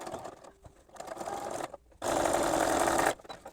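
Sewing machine backstitching a quilt block, a brief softer run of stitching followed by a loud, steady burst of rapid stitching about a second long, close by with no talk.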